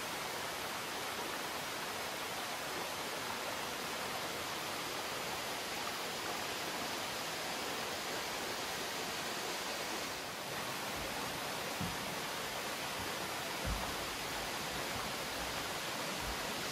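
Erskine Falls in the Otway forest, heard from the lower lookout, a dense, steady roar of falling water filling the space with even broadband rush and no breaks, plus a couple of faint low thumps near the end.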